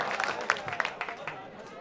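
An audience at a mushaira poetry gathering claps in scattered, fairly faint bursts, with individual claps standing out, while a voice speaks over the applause.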